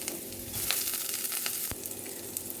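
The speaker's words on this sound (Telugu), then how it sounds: "ఇప్పుడు తగిన పచ్చిమిరపకాయలను వేసుకొని వేయించుకోవాలి." Green chillies, curry leaves and grated ginger fry in a pan, giving a steady close sizzle with small crackles and pops throughout.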